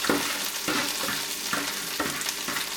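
A bean, onion and grated coconut mixture sizzles steadily as it fries in a pan in a Kerala home kitchen, a close, continuous hiss broken by regular stirring scrapes about every half second.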